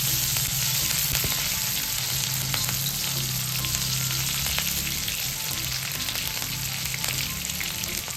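Green chillies and garlic fry in hot oil in a pan while being stirred, giving a steady, close sizzle with occasional scraping of the spoon throughout and no talking.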